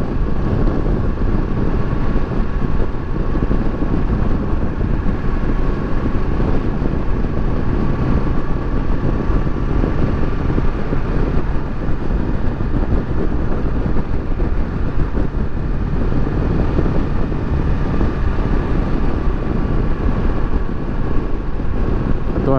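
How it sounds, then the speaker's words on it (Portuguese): A 2018 Kawasaki Versys 650 ABS Tourer motorcycle cruises with its engine held near 4,000 rpm during break-in, a steady, even drone largely buried under loud, constant wind rush for the whole ride. "mas tem que ficar me contentando com esses 4 mil giros aqui para amaciar o motor até os 800 km"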